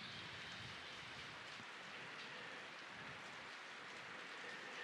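Rain falls on the island of Kauai, a faint, steady broadband hiss of drops continuing evenly throughout with no other sounds.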